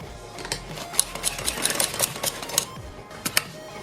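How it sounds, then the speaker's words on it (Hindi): A sewing machine stitches a frill for a round-neck design in a short run of quick, uneven mechanical clicks and rattles, close and fairly quiet, with no talking. "यहाँ पर सिलाई लगाते जाएंगे।"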